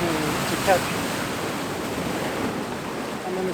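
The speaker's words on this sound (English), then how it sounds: "I'm scared of the waves." Ocean waves wash against rocks on the coast of Madeira, a steady, broad surf roar with gusting wind across the microphone and a brief faint sound near the start.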